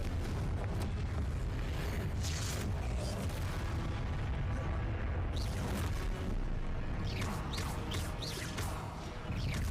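Fiery Confringo spell blasts go off in Hogwarts Legacy, heavy booming explosions with sharp bursts and whooshes layered over a loud, rumbling game backdrop.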